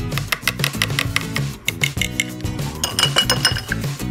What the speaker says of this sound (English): Keep mixing until the creme fraiche gets all incorporated and it's all looking pretty